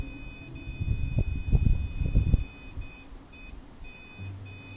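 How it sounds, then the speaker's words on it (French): Black box device in a troglodyte house emitting a rapid burst of electronic beeps for about two seconds, loud and close, then falling quiet except for a faint low hum. "arrêtez de faire sonner le boîtier noir"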